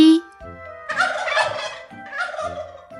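Farm turkey gobbling in loud, rapid warbling bursts close by, two main rattling calls in a row with no speech.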